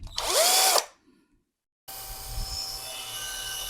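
An electric drill with a 2 mm bit whines briefly as it spins up and cuts off, followed by silence and then a steady mechanical hum.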